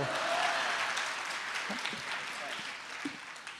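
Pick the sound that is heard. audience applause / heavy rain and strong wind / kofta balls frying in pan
audience applause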